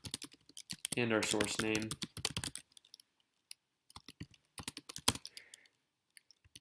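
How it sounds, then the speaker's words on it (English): Computer keyboard keys are tapped in quick irregular clusters of clicks, close and crisp, while someone speaks over the first part and the typing continues sparsely afterward. "the most efficient way right now, which is to type composer archive create"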